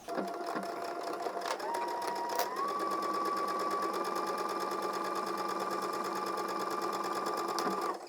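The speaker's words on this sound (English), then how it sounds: "I'm going to take this to my sewing machine and I'm just going to sew this with a 1 centimeter seam" A sewing machine stitches a fabric seam with a 1 cm allowance, running as a steady, close, continuous whirring burst for about seven seconds with no pauses.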